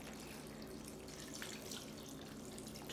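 Beef broth pours into a soup pot in a steady, close, even gush of liquid that runs unbroken for a few seconds.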